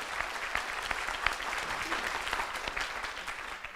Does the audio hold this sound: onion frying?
no